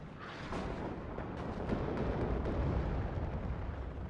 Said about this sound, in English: HE coming in, cluster coming in down here.